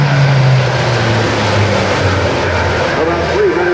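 A C-130J-30 Hercules aircraft flies past at low level at an air national guard open house, a loud, steady propeller and engine roar close by, with a commentator talking over it.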